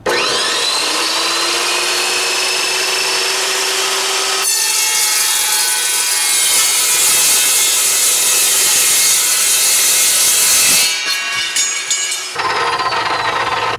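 A power saw, likely a metal-cutting saw, slices through steel stock for a pedestal sink build, a loud, continuous high-pitched grinding screech that holds steady for about eleven seconds before breaking off into shorter bursts, with no talking.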